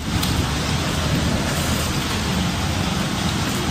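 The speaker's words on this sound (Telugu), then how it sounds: "ఇక సన్న వర్షమే పడుతుంది పొద్దున నుంచి." Light rain falls steadily outdoors near a road, a constant even hiss of drops that stays loud and unbroken throughout.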